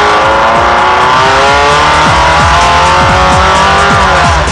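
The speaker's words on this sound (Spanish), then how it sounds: "Estar dentro de un auto con Fernando Belit es como volar." Rally car driven fast, loud and close from inside, engine revving hard through repeated gear changes with rhythmic rises and drops in pitch and tire noise underneath.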